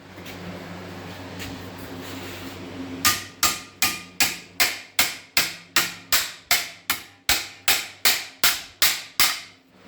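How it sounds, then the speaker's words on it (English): Alone after a quiet hum, a hammer strikes sheet metal held against a dolly in a steady, even rhythm, about fifteen sharp ringing blows close up. "I'm just going to hammer that there now with a hammer and dolly"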